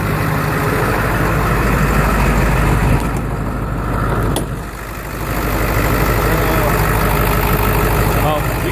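A car engine idles steadily under the open hood, a loud, continuous low rumble with a brief dip midway, professionally serviced and fitted with an AFE intake.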